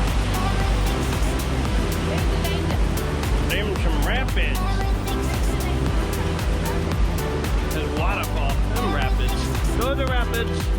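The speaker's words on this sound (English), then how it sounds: "Them some rapids." River rapids at Fall Creek Falls, Tennessee, a constant loud rushing roar of water heard up close, with people talking over it throughout.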